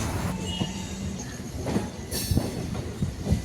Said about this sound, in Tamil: நம்ம ஆவடியிலிருந்து எண்ணூறு வரையும் போகக்கூடிய நம்ம லோக்கல் இஎம்யூ e ட்ரெயினுடைய அடுத்த ஸ்டாப்பிங் குறுக்குப்பேட்டை ரயில் நிலையம்